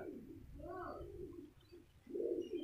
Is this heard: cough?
no